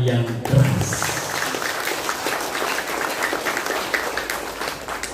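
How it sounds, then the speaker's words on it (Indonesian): An audience at a school parenting event claps loudly and steadily for about five seconds, a dense wash of applause that follows a brief spoken word at the start. "Tepuk tangan yang keras."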